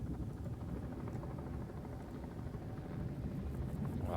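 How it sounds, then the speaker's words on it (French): A helicopter from the video game Destins Croisés drones steadily throughout, a loud continuous low rotor rumble with wind-like noise and no pauses. "c'est le bruit d'un hélicoptère que j'entends"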